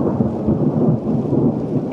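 Heavy thunder rumbles loud and close for the whole moment, a deep rolling roar with rain hissing underneath and no voices.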